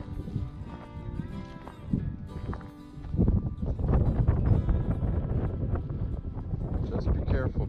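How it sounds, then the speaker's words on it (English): Strong wind buffets the microphone outdoors at a horse paddock, a steady roaring rush that swells louder midway, with a voice talking over it. "Oh, this wind."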